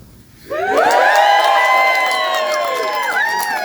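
Film festival audience cheering and whooping, a loud sustained roar of many voices bursting in after a quiet moment and holding steady to the end.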